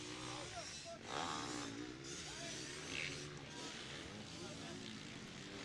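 Husqvarna, KTM and Kawasaki motocross bikes race through a tabletop section at a Cal Classic event, engines whining and rising in pitch at a distance, with commentary over them throughout.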